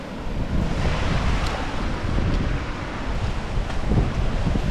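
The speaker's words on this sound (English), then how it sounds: "it is so damn windy out there" Strong wind buffets the microphone in steady, heavy gusts on a remote island shore, with a broad roar that may include surf somewhere in the background.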